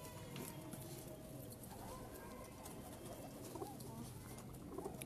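Teddy pigeons at a loft in Jamalpur Syedan coo faintly and intermittently against a noisy, muffled background.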